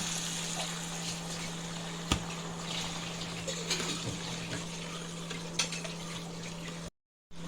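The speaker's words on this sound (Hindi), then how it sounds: "अब मैं इसमें जो है वो पानी डाल रहा हूँ।" Water poured into a pan of wild mushrooms cooking, a steady hiss and bubbling sizzle with faint clinks of the pan, held at low level beneath a constant hum.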